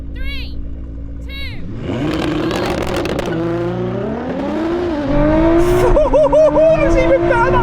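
A Ferrari SF90 and a 1000 hp Nissan GT-R launch in a drag race, engines roaring loud and close as they build rising revs through the gears, with people talking over the engines.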